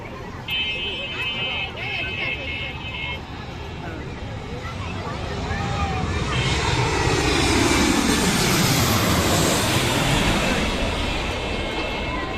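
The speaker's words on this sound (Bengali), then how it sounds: "বিমান দেখতে পাচ্ছি এগিয়ে আসছে নামার জন্য" A Boeing 737 airliner on approach to land at Dhaka grows from a distant rumble into a louder, broad roaring whoosh as it passes overhead, with people talking and cheering nearby throughout.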